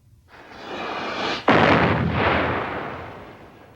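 Cannon artillery fire: a single heavy booming blast that rises in and then erupts with a sharp burst, followed by a long, loud rumbling decay, heard alone without voices.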